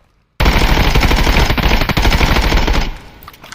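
Sustained full-auto bursts from a 5.56x45 rifle in the shooter game Contractors Showdown, a loud dense roll of rapid gunshots starting abruptly and running nearly three seconds before tapering off.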